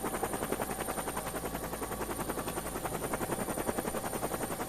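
A helicopter filming stage 3 of the 2016 Volta Ciclista a Catalunya cycling race: a steady, rhythmic rotor chop that stays even throughout, moderately distant and heard alone.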